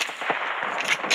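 Gunfire from the mobile battle-royale game PUBG New State crackles in quick sharp bursts, a few close shots in rapid succession over a dense, noisy game soundscape.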